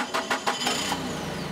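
A forklift engine cranks in a few quick rhythmic pulses, then catches and settles into a steady running hum, close and fairly loud with no voices.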